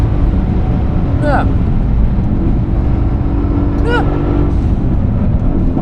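A race car drives a lap through corners, its engine droning loud and steady from inside the cockpit, with tire squeal rising briefly twice as a driver's voice speaks over it.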